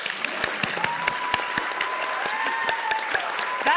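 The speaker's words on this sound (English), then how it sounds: "It's okay to applaud." An audience at an arts awards ceremony gives warm, continuous applause, fairly close and even, with a few sharper individual claps standing out.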